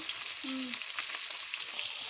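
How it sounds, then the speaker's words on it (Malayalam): Sardines coated in chilli paste fry in a hot pan, giving a steady, close sizzle and crackle of oil that runs unbroken throughout, with a brief low tone near the start; no one speaks. "നമ്മുടെ മത്തിക്കുട്ടന്മാരിങ്ങനെ പൊരിഞ്ഞോണ്ടിരിക്കുമല്ലേ"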